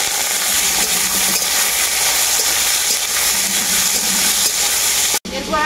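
Thin-sliced potatoes fry in hot oil with nigella seeds and dried red chilli, giving a loud, steady sizzle and hiss that runs without pause, then cuts off abruptly near the end.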